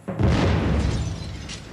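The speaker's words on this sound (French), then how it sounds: "il déclenche l'explosion d'une bombe placée sous son lit" Bomb blast set off beneath a bed as a documentary effect: one loud, deep explosion bursts in and rumbles on for over a second, a short crackle near the end, no voices.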